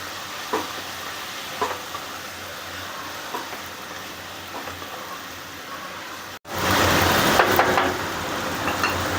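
Masala dahi bhendi, okra in yogurt, being stirred in a pan with fresh grated coconut, coriander and crushed peanuts: a soft sizzle with scattered scraping strokes, which turns louder and denser partway through.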